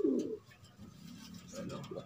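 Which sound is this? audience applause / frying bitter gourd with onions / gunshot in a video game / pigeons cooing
pigeons cooing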